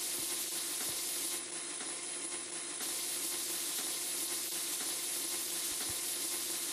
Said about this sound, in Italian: Intanto mettiamo a friggere i nachos con il metodo che già conosciamo.